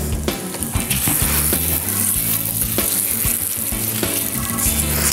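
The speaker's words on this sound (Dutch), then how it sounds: "Linzen even aanbakken." Lentils fry and sizzle in a pan, a steady, close crackle with occasional stirring knocks and scrapes, and no voice over it.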